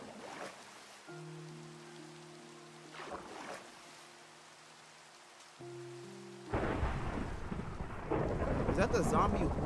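A thunderstorm in the Minecraft video game brings a loud rumble of thunder and heavy rain that swells sharply partway through, under soft game music tones and faint background noise.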